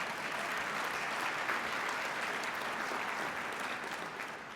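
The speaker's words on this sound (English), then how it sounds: "I think he deserves a round of applause" An audience at a civic commitment announcement claps in sustained, dense applause, steady and fairly close, tapering slightly at the end.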